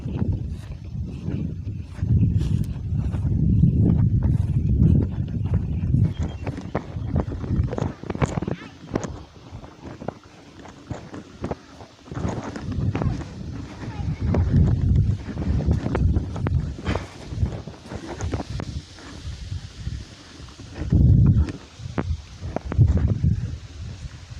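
Gusty cold-season wind buffets the microphone while a large 170 cm Thai chula kite is flown outdoors, rising and falling in rumbling surges, with someone speaking at times under the blustery roar.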